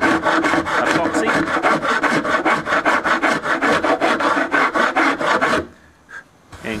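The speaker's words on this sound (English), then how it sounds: "I'll attempt to do this one-handed so I can show you this file in action." Hand file rasping down cured epoxy on a wooden boat part, a steady run of close, loud back-and-forth strokes about four per second, ending abruptly with a quiet pause and a faint knock.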